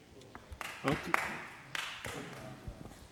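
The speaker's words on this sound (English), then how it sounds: "don't think we usually have applause" Brief, sparse hand claps from a few people at a county board meeting, a handful of quiet taps scattered over a few seconds with faint talk in the room.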